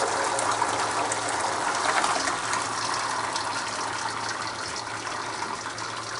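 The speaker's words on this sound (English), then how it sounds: "I just pour the broth in the strainer" Vegetable broth being poured into a strainer over a kitchen sink, a steady rushing gush of liquid that runs continuously and close, tapering slightly toward the end, with no talking.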